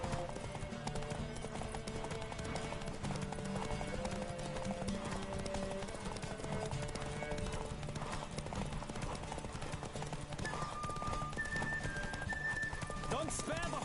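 A horse gallops with rapid, continuous clip-clop hoofbeats in The Witcher 3: Wild Hunt, the rhythm running throughout under layered game music and ambient sound.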